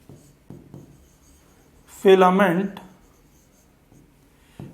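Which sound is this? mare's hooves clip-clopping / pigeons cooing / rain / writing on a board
writing on a board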